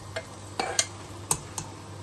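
A metal utensil stirs basmati rice in a non-stick pan, with a handful of faint, sparse scrapes and clinks at irregular intervals over a quiet background hum.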